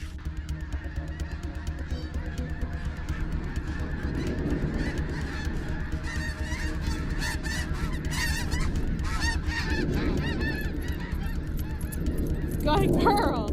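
A large flock of invasive geese honks continuously, a dense overlapping clamor of many birds, near and far, that swells louder toward the end.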